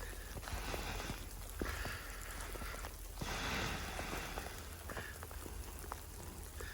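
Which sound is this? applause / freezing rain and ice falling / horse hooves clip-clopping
freezing rain and ice falling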